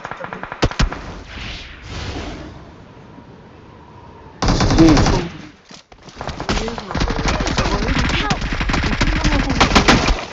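Gunfire from a mobile battle shooter game rattles in rapid automatic bursts, sparse shots at first, then dense sustained firing through the second half, with some voice chatter.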